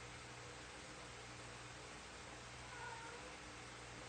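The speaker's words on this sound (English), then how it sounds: "You hear my cat singing in the background." A house cat meows faintly in the background, one brief call barely rising above a steady indoor hiss with no one talking.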